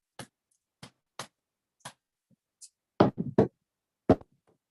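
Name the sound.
hand drum beaten like heartbeat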